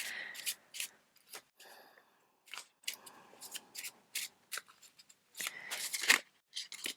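Three Lenormand cards drawn from a deck, heard as a quiet, close run of irregular papery slides, flicks and snaps with short pauses between them and no voices.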